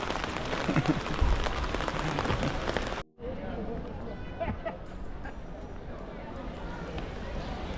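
Heavy rain in Barcelona hisses steadily, with people talking over it; the noise cuts out briefly midway, then the rain continues under the voices.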